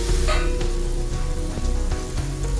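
Masala for a Kerala-style mushroom gravy sizzles loudly in a pan while being stirred, with continuous frying crackle and intermittent scraping taps of the spoon; no speech.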